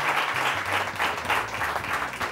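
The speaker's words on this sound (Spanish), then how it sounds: "Un aplauso para Gary, por favor" Studio audience on a Spanish television talent show applauds a contestant with steady, full clapping throughout, accompanied by faint low background music beneath the applause.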